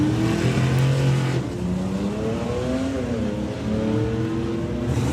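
E-Type Jaguar and Ford 27T Roadster launching at a drag racing event, engines roaring loud and steady with rising revs over about five seconds, no voices.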